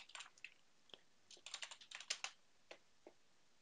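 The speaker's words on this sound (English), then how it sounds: "type in SourceForge" Computer keyboard keys tapped in short uneven bursts, light clicky strokes close by in a quiet room, with no one talking.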